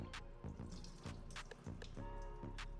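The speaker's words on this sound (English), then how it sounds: "For canned vegetables in a liquid of their own, I will go ahead and rinse it out." Canned vegetables being rinsed under running water in a kitchen, a close steady tap stream with repeated drips and splashes as the liquid is poured off, no talking.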